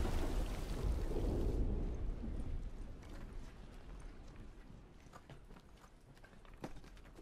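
Steady, loud rain pours in the video game The Last of Us, heaviest at first and then easing to a softer patter, with scattered sharp clicks and taps over a constant wash.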